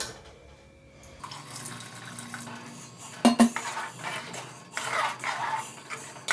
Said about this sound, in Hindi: अब इसमें थोड़ा सा हम पानी डालेंगे